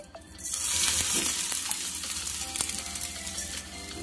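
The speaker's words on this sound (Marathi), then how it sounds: "आता या तेल तापलं की यामध्ये आपण सुकट भाजून घेणार आहे।" Dried shrimp (sukat) roasts in a little hot oil over a medium flame, a loud, close crackling sizzle that swells in quickly and continues with small spatters and stirring clicks, no voices.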